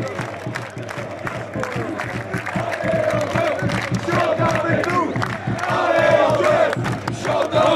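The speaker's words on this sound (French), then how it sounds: "les supporters d'Antoine sont en train de nous applaudir" Football supporters in a stadium applaud and shout together, a dense, loud crowd roar with rhythmic clapping and cheering voices that swells toward the end.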